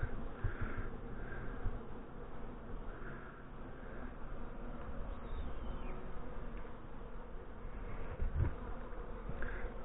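A yellow jacket wasp buzzes steadily and close by near a honeybee hive for several seconds, its droning hum rising and falling slightly against a low outdoor background.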